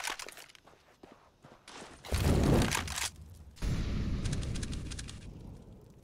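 Bursts of CS:GO gunfire from a blind shot through smoke toward long on Dust2, in a competitive match: a loud blast near the two-second mark, then sustained loud firing and crackle, with quieter footsteps and clatter before.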